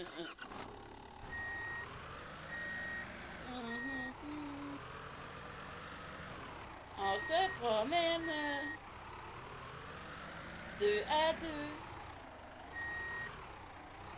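Reversing beeps from a truck in the Quebec-French game ContractVille, steady repeating tones under ongoing talk from several players, with louder bursts of game sound breaking in twice.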